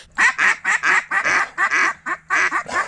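Loud, close duck quacks repeat in a steady rhythmic string of about a dozen calls during a duck hunt in Mobile, with no other sounds competing.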